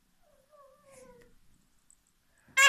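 A cat gives one short, close meow, drawn out and wavering, in a quiet room; an abrupt loud rustle follows right at the end.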